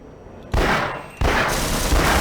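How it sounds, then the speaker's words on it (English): Two loud, close bursts of automatic turret fire in Half-Life, the second following about a second after the first and running to the end. "Oh, that's a turret."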